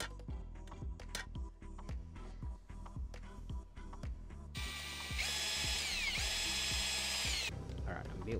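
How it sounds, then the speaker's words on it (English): Drill boring holes through metal for a small outboard hydrofoil install, with a steady whine in the middle and short bursts and taps before and after. "I'm just going to go through and center punch those and drill the holes"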